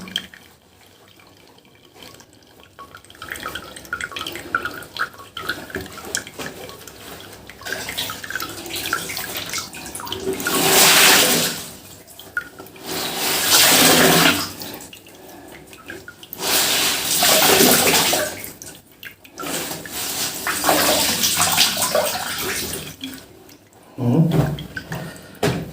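Water poured and splashed while rinsing during house cleaning, rushing in several loud bursts a few seconds long, separated by quieter dripping and trickling, close by.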